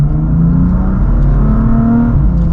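A BMW M4 F82 engine hums and revs steadily at low to moderate RPM, a loud, continuous throaty drone with slight swells in pitch and no speech.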